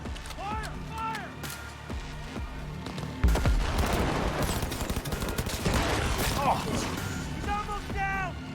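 Heavy volleys of gunfire tear through a firefight in the video game Cyberpunk, a loud crash followed by sustained rapid shots and impacts, with game voices shouting over the shooting and music underneath.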